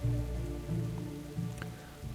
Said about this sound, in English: And it has started raining.